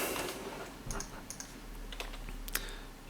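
Quick, light keystrokes on a computer keyboard come in an irregular patter of soft clicks, fairly faint and close, with no speech.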